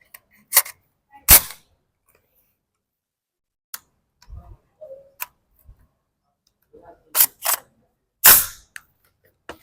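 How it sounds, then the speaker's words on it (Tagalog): Battle Arms Workhorse rifle shots at a range, a few loud separate cracks spaced seconds apart with quiet gaps, light handling noise and brief talk between them. "Okay, puputok ulit tayo."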